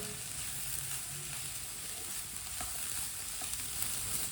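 Chicken pieces being stirred and fried in a pan for Chinese kebabs, a steady sizzle running throughout with occasional scrapes and taps of a spoon, close and fairly quiet, with no voices.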